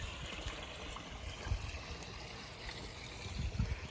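A small waterfall trickles over stacked rocks into a koi pond, a steady close babble of splashing water with gentle gurgling swells.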